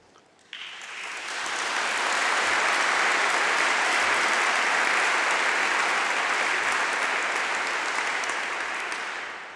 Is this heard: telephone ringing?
no